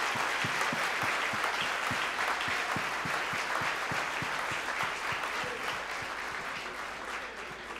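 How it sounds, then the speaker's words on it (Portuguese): A church congregation claps steadily in a sustained round of applause, dense and even throughout, with no voices standing out. "Vamos dar uma salva de palmas a Jesus"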